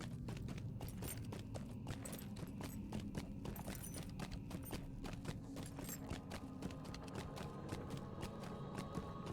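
Horse hooves clip-clop steadily at a riding pace in the Lord of the Rings Online video game, a dense continuous patter of beats close up over a low rumbling backdrop.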